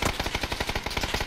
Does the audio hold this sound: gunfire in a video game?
yes